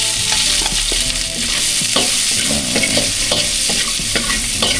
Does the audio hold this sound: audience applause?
no